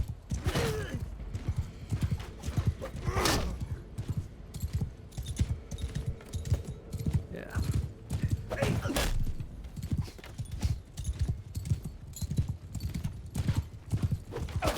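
Horse hooves clip-clopping in a steady rhythmic gait in the video game Mount & Blade II: Bannerlord, with a whinny partway through, mixed with light jingling of tack over a long stretch.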